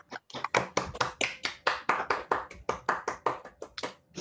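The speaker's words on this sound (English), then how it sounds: "Can we all clap anyway, even though we're not together?" A group claps together over a video call, a close, clear run of brisk, evenly spaced hand claps lasting a few seconds with no one speaking.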